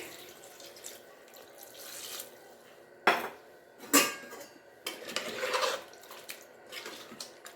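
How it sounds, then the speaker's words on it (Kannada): Water splashes in uneven bursts against a metal pot as it is poured in to cook mutton head curry, mixed with clinks of cookware and a few louder clanks, close and fairly loud. "ನೀರು ಹಾಕ್ತಾ ಇದ್ದೀನಿ ಮಾಂಸ ಬೇಯೋದಕ್ಕೆ"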